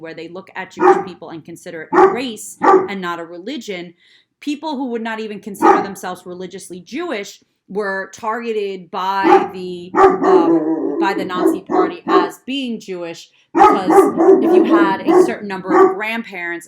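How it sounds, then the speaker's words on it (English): A pet dog named Cashy barks and yips intermittently indoors beneath continuous speech from a person talking throughout, the barks short and mixed in with the voice rather than standing alone. "again, I'm sorry about my dog"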